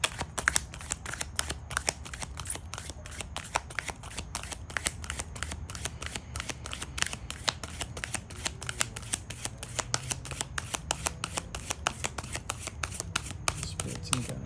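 Tarot cards are shuffled in quick, even riffles during a love reading, a dense run of crisp flicks and slaps that carries on steadily from start to end and sounds close.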